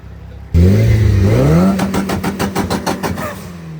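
A retuned Mitsubishi Evo engine revs hard and loud, climbing in pitch, then breaking into a rapid series of sharp, crackling pulses as the throttle blips, heard close with no talk over it.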